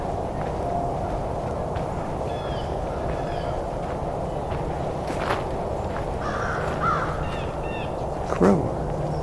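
A crow caws a few times at a distance in a winter field, short harsh calls over the steady hum of a nearby highway.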